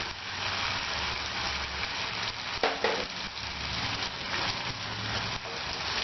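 Masala sizzles gently in a pan after yogurt is added for masala kuska rice, a soft, continuous frying hiss with one brief clatter partway through.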